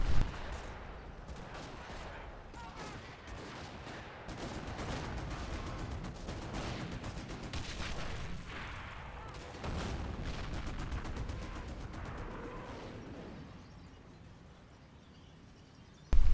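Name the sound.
artillery barrage and gunfire in a war video game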